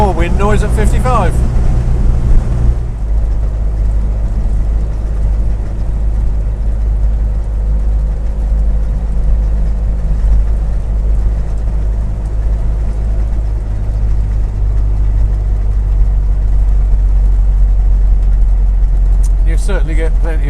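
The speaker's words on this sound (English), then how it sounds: "You can hear even more wind noise at 55." Constant buffeting wind rush and engine hum in an open Triumph Herald 13/60 convertible at 55 mph, a loud steady roar, with someone speaking briefly at the beginning and end.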